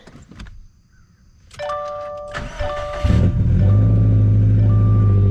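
A 2017 Subaru STi engine cold-starting: a short cranking whir, then the engine catching and settling into a loud, steady, rumbling idle close by, after a few faint clicks and beeps.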